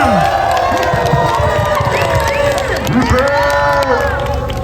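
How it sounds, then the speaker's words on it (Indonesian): A large crowd at a May Day labour rally outside the governor's office in East Java cheers, whoops and claps loudly for the governor, with overlapping shouts and a voice over a sound system. "Kita berikan aplaus yang meriah buat Ibu Gubernur kita"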